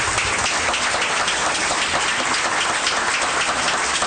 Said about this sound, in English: Let's have another round of applause for everyone here tonight.